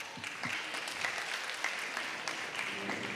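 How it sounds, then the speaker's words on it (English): Audience applause at a women's policy roundtable luncheon, a room of people clapping steadily at moderate distance with a few sharper claps standing out and some voices underneath. "Give yourselves a hand clap"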